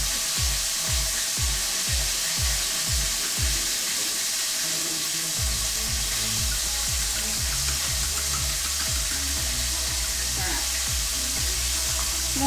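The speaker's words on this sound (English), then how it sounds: "Listen to that bloody sizzle." Egg-coated fish fries in a hot pan, giving a constant close crackling sizzle, with repeated low knocks or thumps of handling in the first few seconds and a quieter patch midway before the frying hiss carries on.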